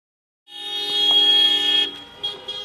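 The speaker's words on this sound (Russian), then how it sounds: "По улицам маленького аула Джингирик несется свадебный кортеж." Car horns blare from a wedding motorcade decorated with carpets as it drives through a small Karachay village. One long steady toot is followed by shorter honks, fairly close and with no talk.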